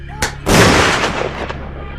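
Gunshots fired at a small creature during a night-time encounter at a rural farmhouse in Kelly: a sharp report, then a louder blast that rings out and decays, with a fainter third shot near the end.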